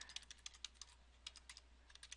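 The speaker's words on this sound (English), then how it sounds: "So I'll just type that in here in my browser" A web address goes into a browser on a computer keyboard: a quick irregular burst of light key clicks, close and quiet, with a short pause midway and no voices.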